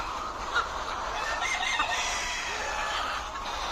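Hens on a layer poultry farm, a dense flock clucking and crowing steadily throughout, with a few sharper calls standing out above the continuous farmyard chatter, no voices.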